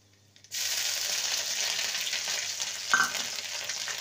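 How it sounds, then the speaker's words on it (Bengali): Ginger paste hits hot oil already holding fried whole spices and is stirred in a pan, a sudden steady sizzle that starts after a brief quiet moment, with one clink of the spoon partway through. "আদাটাকে ভালো করে কষিয়ে নেব"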